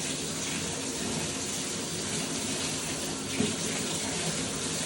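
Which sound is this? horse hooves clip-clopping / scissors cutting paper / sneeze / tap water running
tap water running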